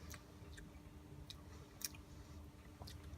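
Someone chews a runny, candle-cooked Cornish egg, with soft wet mouth sounds and a few faint crisp clicks, quiet and close.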